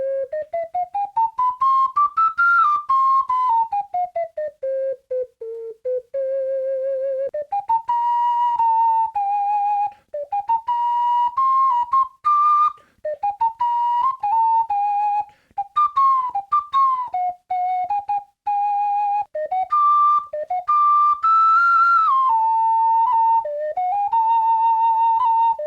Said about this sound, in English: Here's a scale and a song.